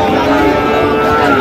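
Cattle at a traditional weekly livestock market where Sahiwal and similar-breed bulls are traded, with a dense, continuous crowd and animal din, low lowing tones blending into steady market noise throughout.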